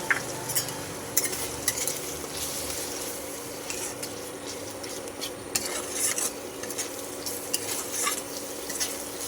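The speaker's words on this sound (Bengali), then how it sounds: "আমি দিয়ে দেবো সেই বেটে রাখা কাজু বাদামের পেস্টটা দেবো এবং অল্প আঁচে একদম এটাকে নেড়ে নেব" A spoon stirs cashew paste into masala over low heat, making a continuous gentle sizzle with rhythmic scraping and light clinks of metal against the pan, close and moderately loud, with no speech.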